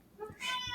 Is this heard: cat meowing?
yes